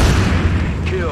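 Gunshot from a soldier's weapon in the game XCOM: Enemy Within, a short booming report under ongoing battlefield effects and low rumble, lasting about a second.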